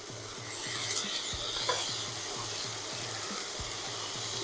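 Asparagus and minced garlic sautéing in a pan: a soft, even crackle of oil runs through, over a low, regular rhythmic thumping in the background, with a few faint scrapes.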